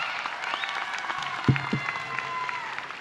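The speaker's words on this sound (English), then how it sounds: "Give another round of applause" Applause from a high school graduation audience for the class of 2023, a steady wash of many hands clapping at moderate distance, with a brief louder thump midway and a faint voice underneath.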